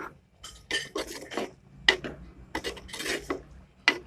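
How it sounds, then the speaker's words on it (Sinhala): Pork is stirred with a ground spice mixture in a pot for pepper thiyal, producing repeated scraping and clinking bursts of a utensil against the pot in an irregular rhythm. "අපි අපේ පහේ මිශ්‍රණය මෙහෙම හොඳට කලවම් කරනවා."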